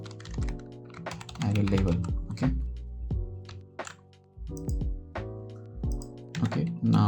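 Quick bursts of typing on a computer keyboard while someone writes code, a fast run of sharp clicks and key thuds in uneven clusters with short pauses, close up, with a voice speaking briefly between them.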